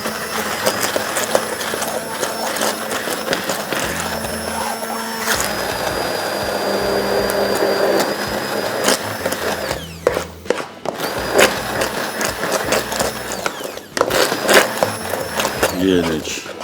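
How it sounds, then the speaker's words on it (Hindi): A handheld hand blender whirs in bursts while chicken is being prepared in a kitchen, its motor pitch rising and falling over about seventeen seconds with pauses and handling clatter, under occasional talk. "हैंड ब्लेंडर ले लिया, ऑन हो जा भाई"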